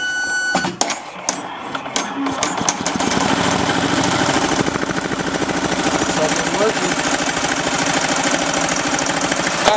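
A Bravo X multi-needle embroidery machine stitches a tack down, settling into a steady, rapid mechanical chatter after a few brief clicks and a short pause at the start.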